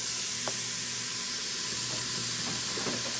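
Ground turkey hits a hot pressure cooker, giving a steady loud sizzle and hiss with a few faint clicks and pops, and no talk over it.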